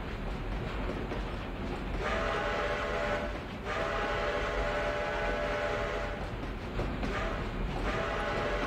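A video game train rumbles along steadily with a faint whistle-like tone rising in and out, a continuous mechanical drone at moderate distance.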